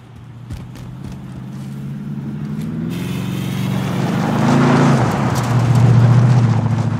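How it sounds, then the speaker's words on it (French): Vehicles rumble along in Call of Duty Modern Warfare, a low engine drone that swells louder toward the end as they approach, with no talk over it. "Deux véhicules qui font route vers le sud, extrémité du champ."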